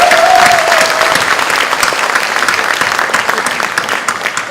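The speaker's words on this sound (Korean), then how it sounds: "홍준표 정책의장님과 우리 116명의 국회의원님들, 당직자 모든 분들에게 여러분 큰 격려의 박수 한번 보내주시기 바랍니다." Loud crowd applause fills a Korean election campaign launch rally for the June 13 local elections, dense steady clapping from a large audience that holds strong throughout and eases only slightly toward the end.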